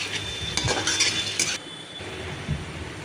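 A curry of pumpkin, pointed gourd and potato is stirred in a hot pan, with a busy burst of spoon scrapes and clinks over sizzling that then settles into a quieter steady fry.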